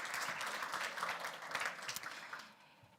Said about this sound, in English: Let's say thank you and let's clap for you.